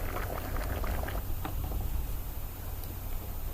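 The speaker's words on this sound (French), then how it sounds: "Vous les laissez bouillir. Commence à bouillir." A pot of fresh tomatoes boiling in water on the stove, a low rumbling bubble with soft popping and ticking, close and steady with no voices.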